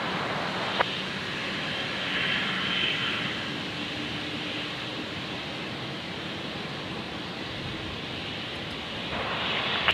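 A Qatar Airways Airbus A380 departs runway 19 left at Brisbane Airport, its jet engines a steady, broad roar that holds level and fairly distant throughout, with no talk over it.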